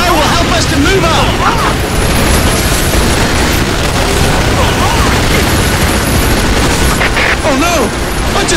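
Dense, continuous battlefield din from Earth Defense Force 6 during an urban assault on a central plaza with armored vehicles, loud booms and rapid gunfire layered throughout, with shouted voices and chatter over the barrage.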